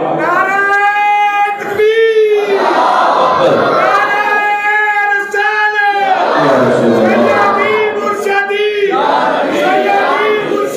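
A large crowd at a devotional naat gathering chants a religious slogan in loud, rhythmic unison, voices swelling in repeated waves, close and full throughout.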